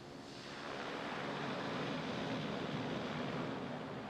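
A turboprop Beechcraft Duke in Microsoft Flight Simulator 2024 shifts its propellers into beta range, a broad, rushing roar that swells within the first half second and then holds loud and steady.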